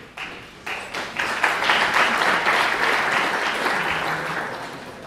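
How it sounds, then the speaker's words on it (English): An audience at a financial seminar on the fourth industrial revolution breaks into steady applause before a presentation, starting with a few scattered claps and swelling into a sustained, fairly close round of clapping that holds to the end. "That's pressure if you're clapping before the presentation."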